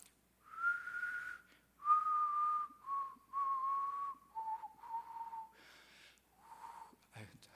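Clear, close whistling of a slow, tuneful hymn melody in sustained phrases, with short breaths between notes.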